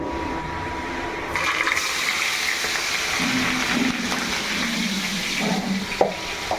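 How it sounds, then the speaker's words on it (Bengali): Chicken pieces frying in hot oil, heard as a loud, continuous rushing sizzle with bubbling surges throughout and a sharp clink near the end. "এখন আমি মুরগি ছেড়ে দেব তৈলের মধ্যে।"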